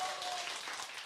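An audience applauds for a guest lecturer at a public citizens' lecture, a steady wash of clapping filling the short moment at an even level.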